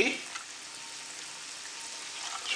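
Egg white sizzles softly in a hot pan as it spreads over a potato base for a bird's nest egg, a close, even frying hiss with a few brief louder crackles.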